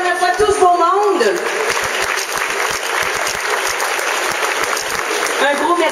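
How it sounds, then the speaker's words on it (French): A festival audience in St-Paulin breaks into sustained, full applause, with a voice speaking briefly at the start and again at the end as the clapping continues. "Alors, on applaudit encore une dernière fois tous pour monde."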